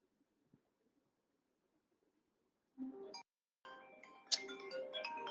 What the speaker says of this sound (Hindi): एक मिनट, मेरे घर से फोन आ रहा है।